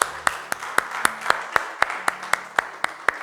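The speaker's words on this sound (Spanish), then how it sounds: "Dale un aplauso a Dios por todas sus bondades." Rhythmic clapping at a religious gathering, sharp evenly spaced claps about four per second, steady and close, sounding like a small group clapping in unison.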